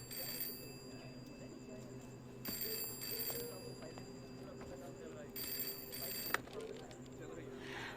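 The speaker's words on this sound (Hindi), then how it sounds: "फोन बज रहा है तुम्हारा," A telephone rings in a busy office, repeated bursts of ringing at a steady interval, moderately loud, over room murmur and people talking nearby.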